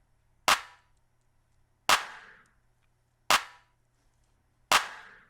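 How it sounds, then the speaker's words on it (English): Snare and clap layered into one sharp hit for a K-pop boy group beat, struck four times at an even, slow pace, each loud crack decaying quickly over a faint low hum. "this is what our snare and clap combo sounds like"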